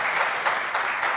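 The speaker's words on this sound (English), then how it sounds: "They deserve a bigger round of applause than that." An audience at the Mercedes launch of the 2022 W13 Formula 1 car claps in a dense, steady round of applause that fills the whole short moment without any voices.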